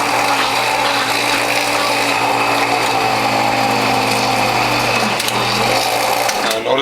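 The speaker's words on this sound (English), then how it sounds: "Now notice my motor's working hard" Motor of a Whole Health Foundation juicer straining as carrots are fed through its front tube: a loud, continuous mechanical whir with a steady hum and a busy grinding rattle, close up, with no talking.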